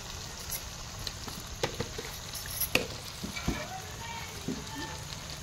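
Spices with salt and coriander powder frying in oil for a meatless curry, a steady soft sizzle broken by sharp stirring clicks and spoon scrapes, close and fairly quiet.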